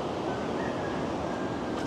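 Big ocean waves at Lamane Beach make a continuous loud roar of surf and wind that fills the whole moment without letup.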